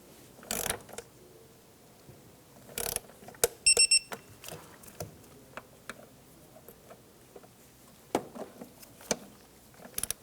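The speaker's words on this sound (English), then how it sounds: "Torque down the throttle body bolts to 89 inch-pounds." A torque wrench tightens the throttle body bolts on a 2007-2012 Nissan Versa in a crisscross pattern. Sharp, close mechanical clicks and ratcheting ticks come in scattered bursts over a quiet workshop background, with no talking.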